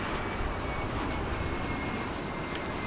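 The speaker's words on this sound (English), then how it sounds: "It's an American Airlines plane." Steady broadband roar of an American Airlines Airbus A321 at DFW International Airport, a continuous airliner engine rush heard from the spotting area with no voices.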